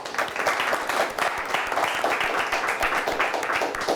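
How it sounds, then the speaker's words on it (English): A studio audience applauds a church school quiz team at a televised match, a dense, even round of clapping that holds steady at moderate loudness for the whole stretch with no talk over it. "Let's give them a nice round of applause."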